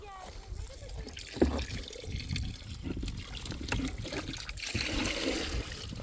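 Water poured from a cracked bucket in a garden, a soft trickling and splashing stream, fairly close, with someone talking and outdoor background noise throughout.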